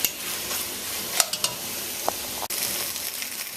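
Flour-coated beef pieces cooking in a stew pot, a continuous hiss of sizzling with several scraping stirs and light clinks from a spoon against the pot.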